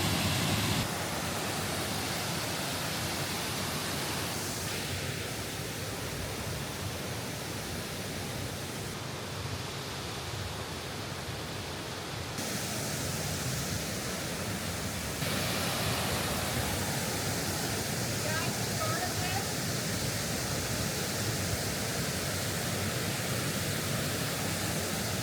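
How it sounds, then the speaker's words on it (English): A small roadside waterfall gives a steady, dense rush of falling water, close and continuous for the full length with only slight shifts in texture, and no voices. "we drove past this little waterfall"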